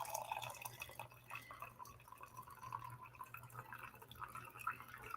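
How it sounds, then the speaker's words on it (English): Butterscotch toffee coffee trickles steadily into a cup, a faint continuous liquid pour in a quiet morning room. "I'm going to pour some coffee. I have butterscotch toffee coffee this morning."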